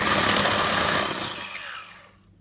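An electric hand mixer whirs loudly through butter cake batter, a steady high buzzing drone that winds down and stops near the end.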